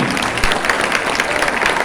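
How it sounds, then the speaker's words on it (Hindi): An audience at the inaugural ceremony of Srishti 2k23 gives loud applause, a dense crowd of clapping hands with scattered sharper claps standing out. "जोरदार तालियां एलएनसीटी"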